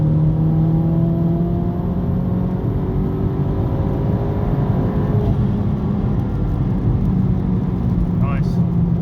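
A turbocharged Vauxhall Astra H VXR with an EFR turbo conversion accelerates hard in fourth gear, its engine note rising loud and steady from inside the car, with a brief high whine near the end and voices talking over it.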